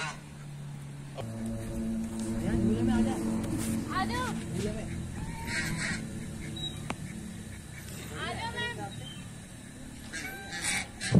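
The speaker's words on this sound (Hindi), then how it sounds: "यहाँ पर ना इतने सारे बतख थे ना" Flock of ducks at a resort near Rishikesh, with honking, goose-like calls rising repeatedly in bursts among the birds, heard close by under steady background chatter and people talking.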